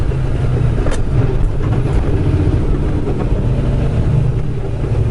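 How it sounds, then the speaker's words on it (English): A truck engine with its Jake brake engaged gives a loud, steady low rumbling drone that continues unbroken throughout, close and with no pauses. "the Jake brake on this truck is just very,"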